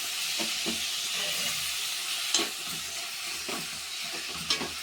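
Mutton keema pulao mixture is stirred in a pan over a sizzling, hissing fry, with a spoon scraping and clacking against the pan at irregular intervals, close and clear.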